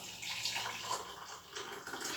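Hot water poured from a kettle into a coffee cup, a soft continuous splashing stream heard close up and fairly quiet, steady for the whole stretch with no talking.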